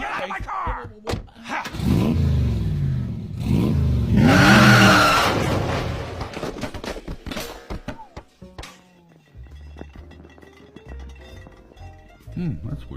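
A car engine revving hard in rising and falling bursts, then pulling away and fading, followed by quieter low rumbles and clanks; a voice speaks near the start.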